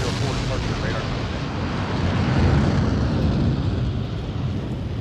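A jet plane, such as an F-35C, launches off the aircraft carrier USS Ronald Reagan with a loud, steady roar of broadband engine noise that swells slightly midway, continuous and close.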